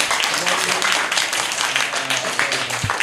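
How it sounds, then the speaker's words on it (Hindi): Schoolchildren clapping together in a primary school classroom, a steady, fairly loud patter of many hands with children's voices mixed in. "तालियां बजा दो।"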